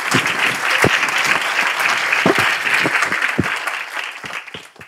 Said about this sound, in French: je vous prie de l'accueillir avec vos applaudissements